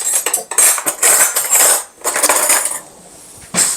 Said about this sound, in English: Oops, I keep grabbing the wrong drawer.